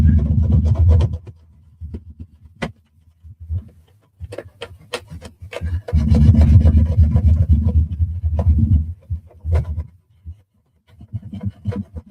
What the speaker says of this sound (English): let me see my green scrubby here. I'll just do some scuffing up in there.